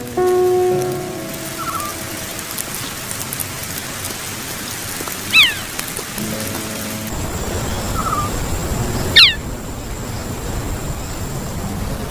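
Steady rain patters over an acacia forest in a continuous hiss, with a couple of brief sharp bird calls and faint tonal hums rising above the wash.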